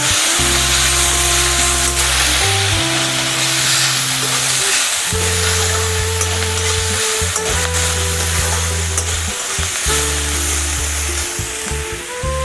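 Egg fried rice being stir-fried with dark soy sauce, a steady loud sizzle throughout with repeated scraping and stirring strokes of a spatula in the pan, no voices.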